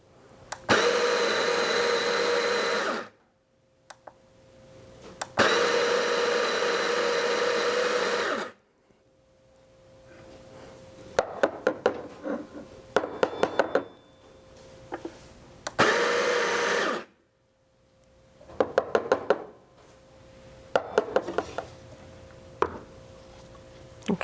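A coffee grinder for a Lelit Anna 2 espresso setup whirring loudly through beans in several bursts of a few seconds each, separated by pauses filled with clicks, taps and handling knocks.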